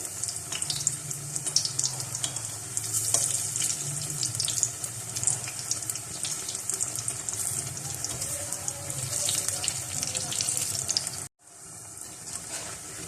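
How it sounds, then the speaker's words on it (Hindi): Tap water runs steadily into a bowl in a home kitchen while besan bhallay are cooked, a continuous close splashing stream that stops abruptly near the end. "एक बाउल में पानी डाल लें"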